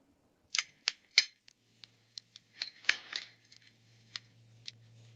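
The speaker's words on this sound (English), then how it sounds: "Take out the scissors." Scissors snipping Coptis roots pulled from mountain soil, a string of crisp close metallic snips in an uneven rhythm, some quick pairs, against a quiet background.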